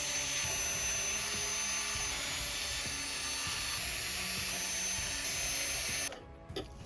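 A screwdriver works screws out of the cover of a JBL PartyBox 110 speaker, a close, continuous ratcheting whir that stops abruptly near the end.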